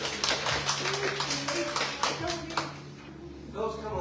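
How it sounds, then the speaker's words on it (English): Live health talk audience clapping for a man named Philip, a fairly close round of scattered hand claps with voices murmuring underneath, tapering off as speech returns. "Give Philip a hand clap"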